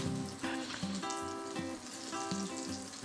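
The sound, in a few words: food frying and sizzling in pan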